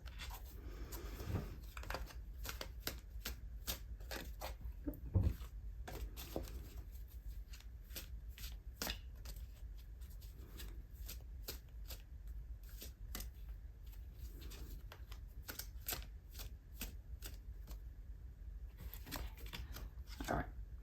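Tarot cards shuffled and drawn during a career reading, with repeated soft, crisp flicks and riffles and occasional sharper slaps as cards land, steady and close under quiet talk.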